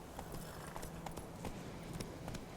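Horse hooves clip-clop at a steady walking pace in The Witcher 3 video game, a moderately quiet, even rhythm of hoof strikes over a low ambient game backdrop, with no speech.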